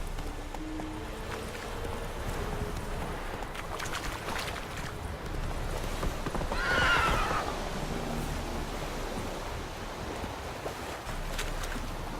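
Roach, a horse in a video game, clip-clops along near a military camp, with steady hoof beats under outdoor ambience and one clear whinny partway through.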